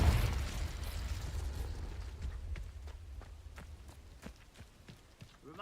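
Confringo fire-blast spell in Hogwarts Legacy gameplay: a booming explosion at the start fades into rumbling debris, followed by a series of faint footsteps and crackles as the game continues.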